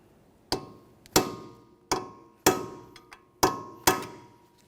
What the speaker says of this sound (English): We'll use a hammer and punch and drive the nut into that area, locking it in so there's no way this can loosen up on us